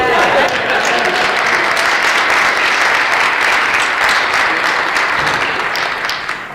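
An audience at a business leadership talk gives steady, full applause, a thick continuous roar of many hands clapping that slowly eases off near the end.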